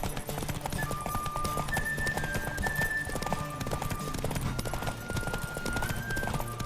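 Horse hooves clip-clop at a steady gallop in The Witcher 3, a continuous rhythmic pounding under game music with held tones, loud and close throughout.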